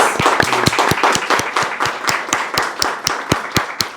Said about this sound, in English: a huge another round of applause for Daniel, please